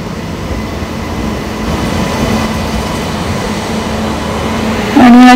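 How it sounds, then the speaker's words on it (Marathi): Janshatabdi Express train from Ratnagiri to Thane (12052) rolling slowly into a platform, a loud steady rumble of wheels on rails, ending in a sharp high brake squeal. "एकदम हळूहळू येते ट्रेन."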